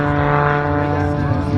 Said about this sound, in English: Rolling the airplane around,